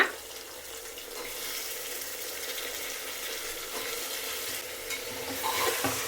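Carrots, potato and fresh peas being stirred in a hot pan, a steady scraping and sizzling that runs continuously and close, with no talking.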